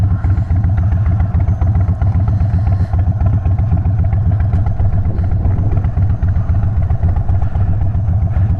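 A motorcycle engine drones steadily while riding, loud and close, with a constant low throb and light mechanical clatter and no voices.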